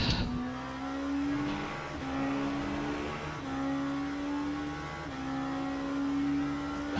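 A Lamborghini GT3 race car in a racing video game holds a loud, steady engine note close by, climbing through the revs and stepping down several times as it shifts gears, with no voices over it.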